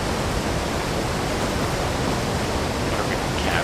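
A waterfall in the fishing game Call of the Wild: The Angler roars with a steady, dense rush of falling water, loud and unbroken from start to finish, with no voices.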